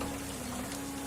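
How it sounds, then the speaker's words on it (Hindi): Heavy rain falling, a soft, steady hiss of drops that stays even and fairly faint throughout the short stretch, with no other sounds over it. "तभी जोरों से बारिश होने लगती है"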